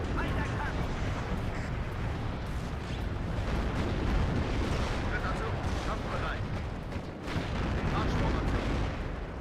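Artillery and mortar barrages in the real-time strategy game WARNO rumble as a continuous, dense wash of distant booms and blasts, with voices talking over the bombardment.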